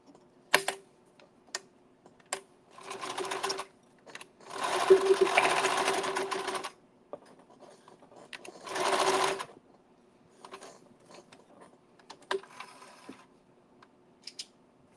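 Bursts of sewing machine stitching, a few seconds each, separated by pauses with scattered clicks and clunks of the mechanism; close and fairly loud.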